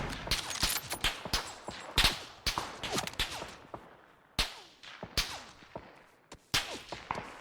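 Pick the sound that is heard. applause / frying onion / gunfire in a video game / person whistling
gunfire in a video game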